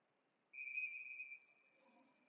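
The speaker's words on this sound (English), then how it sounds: "Whistles blow." A referee's whistle blows during an ice hockey game, a single sustained shrill blast of under a second that fades into a quieter trailing tone over faint arena background noise.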